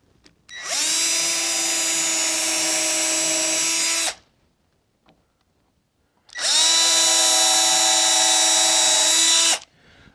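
A power drill bores pilot holes in wood for a picnic table build, running in two steady, high-pitched whining bursts of about three and a half seconds each, separated by a pause of near silence.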